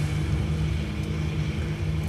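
Aircraft engine at full power in the War Thunder combat flight game, a continuous loud droning roar holding steady throughout.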